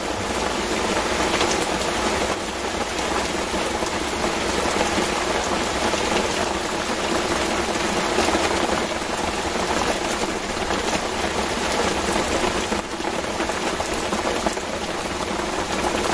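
Heavy rain pours steadily outdoors at a fishing spot, a dense, loud hiss of drops hitting surfaces that continues unbroken for the whole stretch, with no voices.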